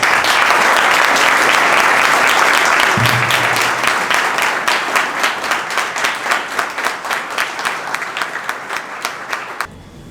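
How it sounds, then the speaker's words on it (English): A debate audience breaks into sustained applause after a speech, a dense wash of clapping that thins into a few distinct rhythmic claps before stopping abruptly. "Let's celebrate with that strong round of applause."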